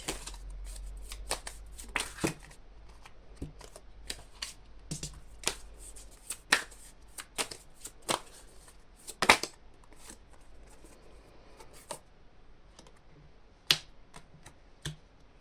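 Tarot cards being shuffled for a card reading, crisp riffling snaps and flicks coming in irregular bursts, close and fairly quiet, with no one talking.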